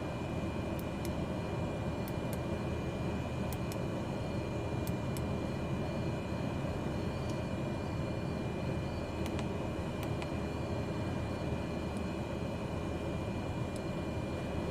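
A steady, loud broadband engine roar from an aircraft departing a runway in a flight simulator game, continuous and even throughout, with faint high ticks and beeps on top.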